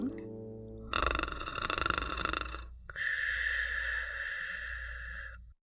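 A voice imitates snoring: a short buzzy inhale, then two long, raspy, exaggerated snores, close and fairly loud.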